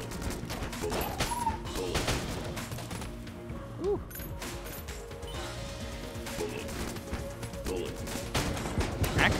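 Gunfire in the game Enter the Gungeon: rapid, fairly quiet bursts of game gunshots with clicks and crashes scattered through, a steady flurry over a soft background.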